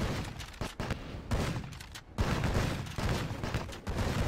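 Helicopter-mounted machine gun fire in a video game rattles in dense, continuous bursts with brief gaps, loud and close, over a rumbling battle backdrop.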